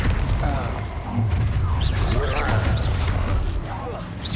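In the Hogwarts Legacy video game, a Confringo blasting spell goes off as a deep, rumbling explosion with crackling bursts, loud and sustained over several seconds, with a voice sounding over it.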